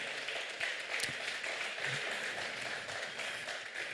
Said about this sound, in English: please do give them a round of applause as they make their way